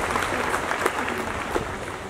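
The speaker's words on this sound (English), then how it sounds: "Let us have a round of applause for the faculty" Applause for the faculty fills a hall at a university convocation, a dense, continuous sustained clapping from a large crowd with no pauses.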